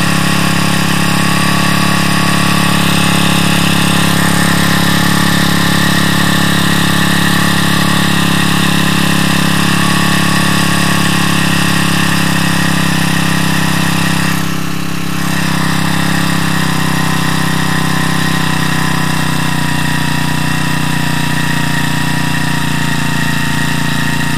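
A Champion T334FS four-stroke string trimmer engine runs loud and close without its line spool turning, a steady droning hum that briefly dips midway as the revs are brought down.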